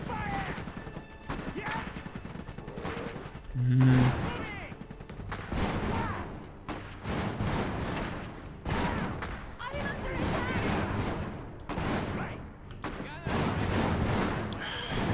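Rapid gunfire bursts from battlefield combat in the mech strategy game Iron Harvest, with dense overlapping shots and a heavier impact near the four-second mark, mixed under ongoing voice chatter.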